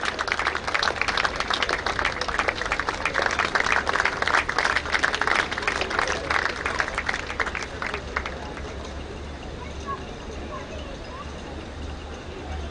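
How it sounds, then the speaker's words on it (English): An indoor audience claps loudly at a badminton tournament prize distribution at MIG, Bandra, a dense burst of applause that thins out after several seconds into quieter room sound. "Can we have a round of applause for the runners-up, Deanne Rodriguez and Nisha Springett."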